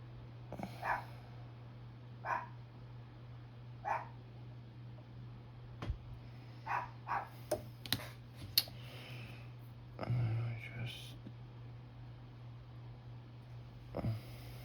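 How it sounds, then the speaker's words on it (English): Chico the dog barking outdoors in a backyard, several short yapping bursts spread across the stretch with gaps between, moderately distant and fairly faint over a steady low hum. "It's my dog out there in the backyard, Chico."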